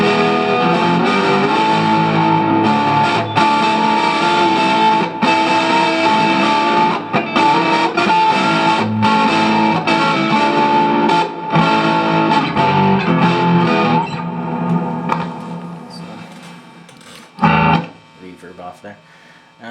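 An electric guitar plays through a Vox VT20+ amplifier on a metal preset, giving heavy distorted riffs and chords with hum between notes, then dropping to sparse quieter notes and a final loud hit near the end.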